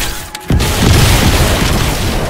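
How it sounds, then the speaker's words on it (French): A mine detonates in a video game, a sudden loud boom whose deep rumble holds steady and decays slowly over a couple of seconds after a brief quiet lead-in. "Alerte. Explosion de mine détectée dans le secteur 1, Delta 4."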